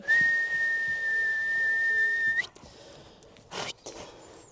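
One long, steady, high-pitched human whistle calling a horse, held for over two seconds, followed by a few faint shuffles and soft thuds.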